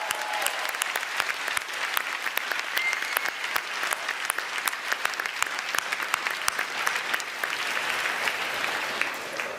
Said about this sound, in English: A big round of applause for the Toronto Police Services this evening.